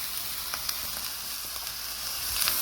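Cooked rice tipped back into a hot pan and stir-fried with egg for Chinese special fried rice, giving a steady, loud, close sizzle with faint scrapes on top and no talking.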